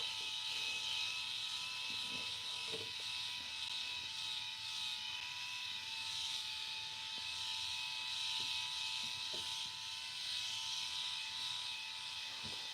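An electric head shaver running steadily, a constant high-pitched motor whine with faint rubbing and clicks from strokes across the scalp, close and unbroken for the whole stretch.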